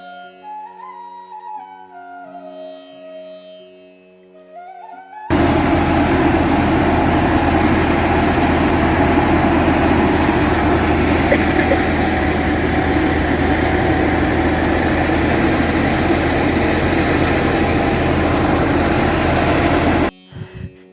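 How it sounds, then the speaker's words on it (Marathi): A loud, steady diesel tractor engine idling close by, a constant low rumble that starts abruptly and runs without a break, with no talk over it, at rice paddy fields during harvest. "आणि हे आपलं ट्रॅक्टर"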